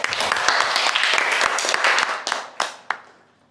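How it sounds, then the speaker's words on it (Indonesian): Classroom applause for a student after a shot put demonstration in a physical education lecture, dense clapping from a small group that fades out with a few last isolated claps. "Tepuk tangan buat Rida"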